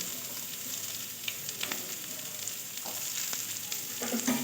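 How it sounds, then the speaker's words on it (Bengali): Steady sizzling of carrots and beans frying in a hot pan, with occasional soft stirring scrapes and crackles, close and continuous, no voices. "গাজর আর বিনটা বেশ সুন্দর করে আমি ভাজা ভাজা করে নেবো"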